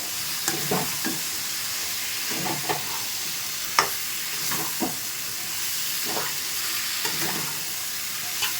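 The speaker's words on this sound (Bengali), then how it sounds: "তো এবার ফুলকপি আলুটা দিয়ে দিচ্ছি। ভালোভাবে মিশিয়ে নেব।" Cauliflower and potato being stirred into a spice paste frying in oil, a steady sizzle broken by repeated scraping stirs, one sharper clack near the middle, close and fairly quiet with no talking.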